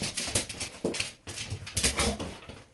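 A dog whimpers in short broken bursts at close range inside a home, with rustling and handling noise around it.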